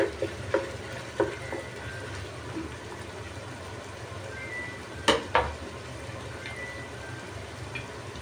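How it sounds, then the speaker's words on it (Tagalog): Minced chicken sizzles steadily in a pan for pancit Malabon as it is stir-fried and broken up, with a soft continuous fry and occasional sharp scrapes and clicks of a utensil against the pan. "kaya medyo dinudurog-durog ko yung ating minced chicken"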